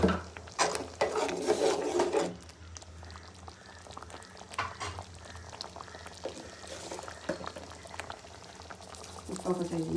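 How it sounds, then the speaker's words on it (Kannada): Paneer butter masala gravy made with butter bubbles and simmers in a pan, with close, irregular popping and sputtering that is strongest at the start and returns in bursts later. "ಇದು ಸ್ವಲ್ಪ ಚೆನ್ನಾಗಿ ಕುದೀಲಿ."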